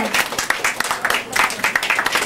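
Audience applause with cheering for the performer at a live music show, steady clapping from a near crowd throughout with voices mixed in.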